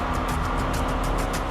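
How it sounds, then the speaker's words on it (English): A race car's 750-horsepower V8 engine runs loud and steady in a dense, continuous roar with a rapid throbbing pulse and no pauses. "You hear that sound of 8 cylinders and 750 horsepower fire up."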